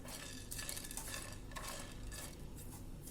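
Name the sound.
dry roasting cloves, peppercorns, star anise and cinnamon in a pan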